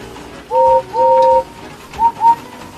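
A steam engine whistle sounds in two-tone blasts, two longer toots followed by two short ones, clear and fairly loud over a quiet background.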